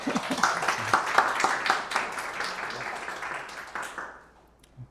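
An audience at a robotics guest seminar claps to welcome the speaker, a lively burst of applause that gradually thins and fades out near the end.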